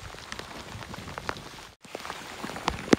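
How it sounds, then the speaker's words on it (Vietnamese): Heavy rain falls at night beside a river, a soft steady patter of drops with scattered louder taps, fairly faint and with no voices. "Mưa quá, nước cứ về."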